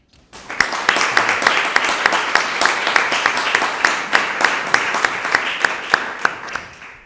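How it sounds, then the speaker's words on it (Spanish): A lecture audience applauds a conference speaker on the Laws of the Indies with steady, close clapping that starts abruptly and continues evenly for several seconds, a few louder individual claps standing out from the crowd. "pediros un fuerte aplauso"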